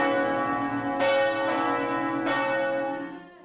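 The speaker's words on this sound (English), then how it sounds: "In the main tower right there, we have a really huge bell, which we call in French le gros bourdon." A very large church bell called le gros bourdon, in the main tower of a church in Quebec City, booms three times at a slow, uneven pace, each strike loud and rich over a sustained humming ring that fades at the end.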